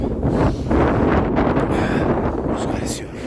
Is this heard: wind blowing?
yes